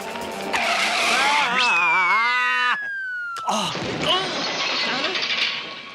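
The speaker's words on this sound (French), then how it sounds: "Vite, les freins de secours!" Emergency brakes screech in a cartoon scene: a long skidding whine that rises and bends in pitch for nearly three seconds, then breaks off. Bumps, clatter and voices follow, loud and close throughout.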